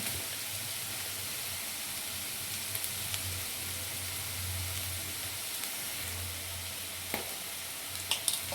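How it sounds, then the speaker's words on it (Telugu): Potato and carrot curry frying in a pan gives a steady, fairly close sizzle, with stirring scrapes and a few sharp clinks of the spoon against the pan near the end. "కర్రీని ఒకసారి ఇలా కలుపుకోవాలండి"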